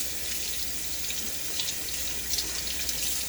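Very cold tap water running steadily into a sink while preparing for a shave, a constant hissing splash close by with no talking.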